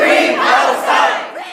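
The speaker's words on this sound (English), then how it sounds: "Chants could be heard across the State House from Hoosiers supporting Palestine" Pro-Palestine protesters chanting inside a state house, a loud close crowd of voices shouting in unison, rising and falling in a rhythmic chant.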